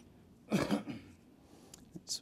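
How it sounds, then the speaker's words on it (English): A patient coughs once or twice during a Gamma Knife Perfexion head-frame fitting in a hospital treatment room, a short, fairly close burst followed by quieter breathy sounds and a faint later cough-like noise. "coughing is good"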